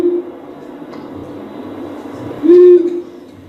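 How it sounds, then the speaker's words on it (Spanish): A long-eared owl gives a single short, low hoot, loud and close, over a steady low background hum. "si el búho real decía búho, el búho chico dice bú y se calla"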